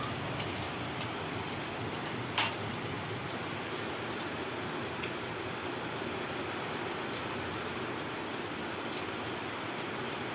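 Steady rain hisses evenly on surfaces nearby for the whole stretch, with one brief louder tap partway through.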